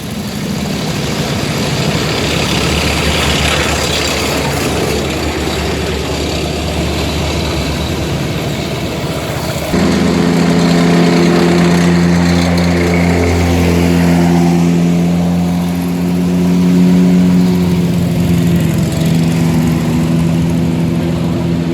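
M18 Hellcat tank destroyers rumble past in a D-Day commemoration parade, a loud continuous engine drone with deep low throb that swells and grows harsher midway as another vehicle draws near.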